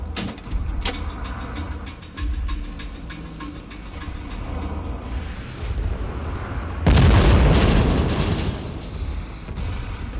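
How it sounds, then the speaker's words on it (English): Bomb explosion in the video game Wolfenstein: The New Order near a cliffside bunker with cannons, a sudden heavy boom with rumbling debris rising over ongoing game noise and lingering for several seconds. "I'm gonna use the bomb over here, though."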